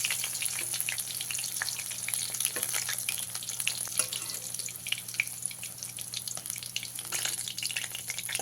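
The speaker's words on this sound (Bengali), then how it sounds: "এভাবে বাকি মাছগুলো আমি ভেজে নেব।" Katla fish pieces fry in hot oil with a steady, close crackling sizzle that runs unbroken throughout, with no voices.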